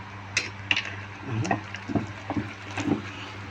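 Baking soda stirred into a bubbling pot of sesame and peanut candy, giving soft scraping and clinking strokes of a spoon against the pan with a faint sizzle beneath, heard alone.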